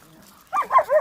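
Puppies yapping up close in a quick burst of two or three short, high barks after a quiet moment.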